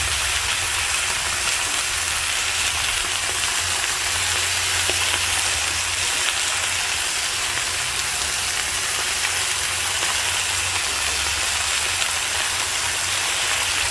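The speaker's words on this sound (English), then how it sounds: "Just browning for a few minutes just to get that peel in there." Lamb browns in a pan cooked outdoors, giving a loud, dense, unbroken sizzle like heavy rain that carries on without pause.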